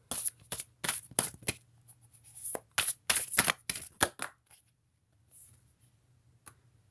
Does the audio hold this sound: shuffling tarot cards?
yes